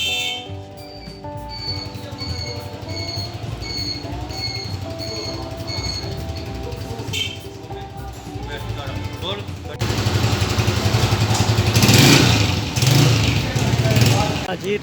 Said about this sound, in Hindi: ये हमारा न्यू बाइक रहा क्रॉन का 125 बाइक।